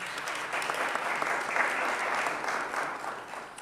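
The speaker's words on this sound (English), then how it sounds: "give them a round of applause, please." Steady audience applause at a city law enforcement press conference on a shooting review report, a dense even wash of clapping from a modest crowd with no talking over it.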